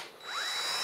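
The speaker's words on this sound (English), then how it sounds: "And because I have the drill, it makes life even easier." A power drill stirring mead must in a bucket, a close, continuous motor whine with a rising pitch as it spins up, running alone with no talk.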